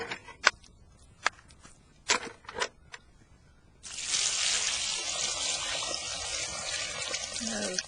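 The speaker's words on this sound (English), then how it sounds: "And we'll add the water." Water poured into a horse's bran mash of sweet feed, carrots and apples, a steady, fairly loud splashing rush that continues for several seconds after a few scattered clicks and knocks.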